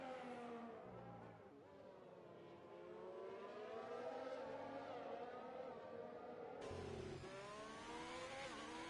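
A Ferrari Formula 1 car in the F1 2020 video game on a flying lap at the British Grand Prix circuit, its engine revving up and down in rising and falling whines with a sharp gear-change jump, no voices.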